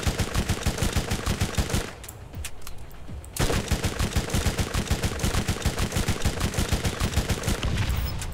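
Rapid, evenly paced automatic gunfire in Borderlands GOTY Enhanced, loud and close, pausing briefly for about a second before resuming in a long steady stream of shots.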